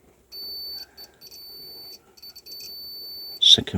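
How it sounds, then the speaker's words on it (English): A multimeter's continuity beep sounds in short high tones, some sustained and some broken, while the gates of MOSFETs in a Swytch e-bike controller are tested one by one, with faint handling noise and a burst at the end. "but you can hear the beep."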